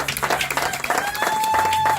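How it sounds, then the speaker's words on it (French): A church congregation at a seminary gathering claps together: a dense, steady wash of applause from a crowd, moderately loud, with a sustained musical tone ringing beneath. "Est-ce qu'on peut déjà l'acclamer?"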